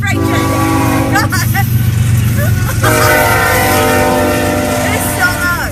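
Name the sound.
freight train passing with horn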